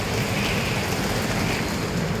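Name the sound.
heavy rain falling outside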